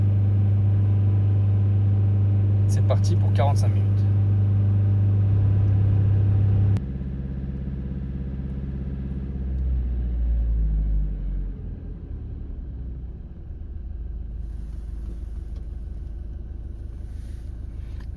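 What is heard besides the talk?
car engine revving during diesel particulate filter regeneration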